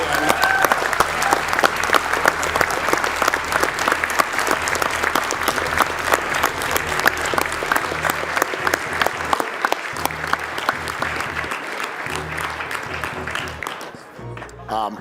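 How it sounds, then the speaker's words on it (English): A live audience at a speedrunning charity marathon gives a long, dense round of applause for the runners, and the clapping fades out near the end. "let's get one more round of applause for both of our runners"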